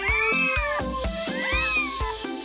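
Meows from a mother cat and her newborn kittens in a video game's animal hospital, several overlapping rising and falling calls in quick succession, loud and close with no talk.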